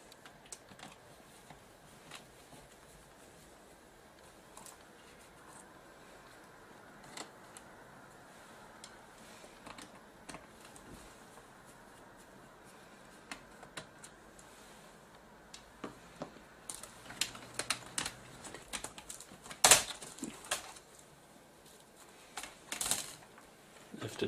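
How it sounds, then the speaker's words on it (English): Taking the keyboard out of a Dell Inspiron 6400 laptop: quiet clicks and plastic ticks at first, then louder snaps, rattles and handling noises as the keyboard is pried up and lifted near the end. "Now I'm going to remove the keyboard."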